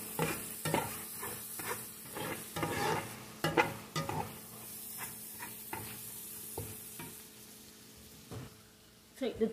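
Beef taco meat sizzling in a frying pan while a utensil scrapes and stirs it in repeated strokes, with brief clanks against the pan over a steady sizzle.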